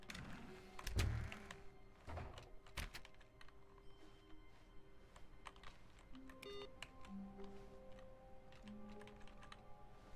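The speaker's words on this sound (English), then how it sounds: "we hear a keyboard hit every time I hit a key" Computer keyboard keystrokes play as sound effects in The Stanley Parable: Ultra Deluxe. Soft, irregular clicks and taps sound close but quiet over a low game ambience, with one louder thunk near the start.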